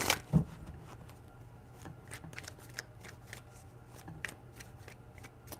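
A tarot deck is shuffled close up, starting with one sharp riffle and then soft, repeated papery flicks and taps of the cards, quiet overall.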